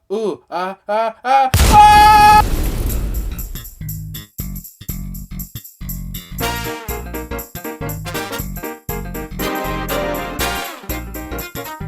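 Crash Bomb weapon from the NES game Mega Man 2 (Capcom, 1988) going off: a loud, sustained burst of explosive noise, followed by chiptune music and a string of quick, sharp game blasts.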